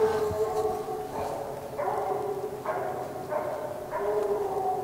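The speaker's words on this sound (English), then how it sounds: "That's two different dogs barking." Two coon-hunting dogs bay and bark at night in the distance, drawn-out howling calls repeating roughly every half second to second, faint over steady background noise.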